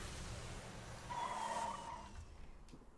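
Tires skid and squeal from a car in Borderlands 2, a short rising screech over engine rumble, fairly quiet and fading out within a couple of seconds.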